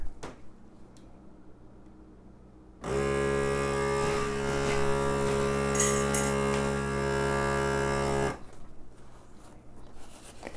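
A kitchen vacuum sealer pumps air out of a bag of dry goods, a loud steady mechanical hum with a droning motor tone lasting several seconds before stopping, quiet handling noises around it.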